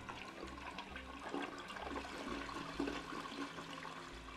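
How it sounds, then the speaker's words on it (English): A long, continuous toilet flush from the video game Unpacking, a steady rushing and swirling of water that holds for the whole stretch at moderate level, with no voices. "Wow, that was like the longest toilet flush I've ever heard."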